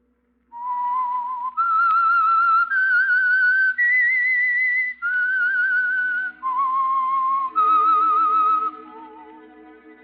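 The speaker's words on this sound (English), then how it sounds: "That whistle is your signal for the Signal Oil program, The Whistler." A lone whistler carries a slow, eerie signature tune for The Whistler radio drama, clear sustained notes stepping up and down in pitch, ending with a faint instrumental tail underneath.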